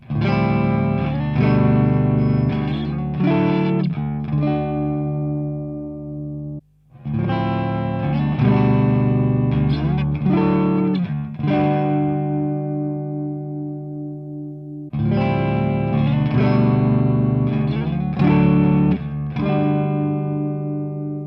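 An electric guitar riff plays through a D'Addario pedal tuner or Boss TU2 tuner and a 5-meter cable into an amplifier in three repeated passes, chunky distorted chords and single notes with short gaps between.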